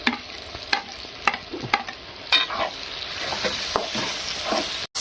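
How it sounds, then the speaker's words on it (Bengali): Chopped tomato frying with capsicum, onion and ginger-garlic paste in a pan for chilli chicken, steady sizzle under repeated scraping stirs that come quickly at first, then give way to a denser crackle. "ভালো করে নাড়িয়ে চাড়িয়ে একটু ভাজা ভাজা করে নেবে"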